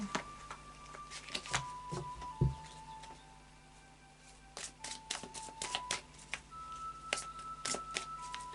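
Tarot cards shuffled and drawn for a Scorpio reading, a series of quick close riffling and snapping card sounds in short bursts separated by a brief pause, over soft background music.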